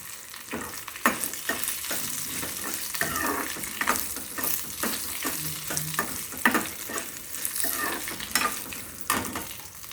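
Dried red chillies frying in oil for a sesame seed powder, a steady close sizzle broken by repeated sharp stirring scrapes and clicks of a spoon throughout, with no talking.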